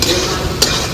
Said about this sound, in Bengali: ডালটা অল্প অল্প ভাজা হয়ে গেছে